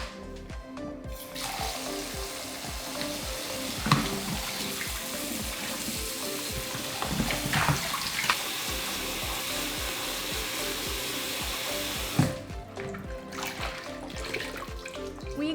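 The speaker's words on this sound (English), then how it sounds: "Rinse it with the tap water." Tap water running steadily into a sink while cooked soba noodles are rinsed in a colander, a continuous splashing stream with brief clatters.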